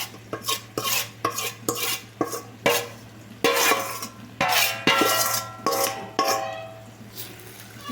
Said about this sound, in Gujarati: આપણે એને હલાવીને સરસ મિક્સ કરી દઈશું જેથી બધો મસાલો સરસ મિક્સ થઈ જાય